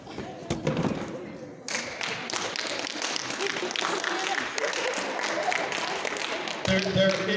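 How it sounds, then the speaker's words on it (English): Basketball players applaud their parents at a team banquet, starting with a few taps and thuds before swelling into dense, sustained clapping from a room of people, with voices mixed in. "turn to your parents and give them a round of applause for all they did this year"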